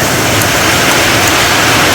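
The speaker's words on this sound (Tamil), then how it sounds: "சரியான மழை பெய்யுதுமா, சத்தம் கேட்குதா? சரியான மழை." Heavy rain pours down steadily, a dense, loud, even hiss and roar with no breaks and no voices.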